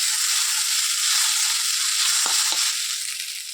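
Chow mein noodles are stirred and fried in a hot pan, giving a steady close sizzle with a couple of brief scraping stirs, easing slightly toward the end; no talking.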